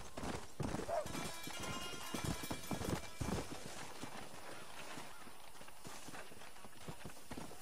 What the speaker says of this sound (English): Oh, it's a wild horse.